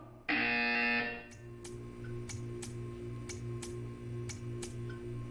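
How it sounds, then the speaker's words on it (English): A loud electronic buzzer in the video game Portal 2 blares for about a second, then a steady hum continues with a series of sharp, evenly spaced ticks or clicks. "You will hear a buzzer."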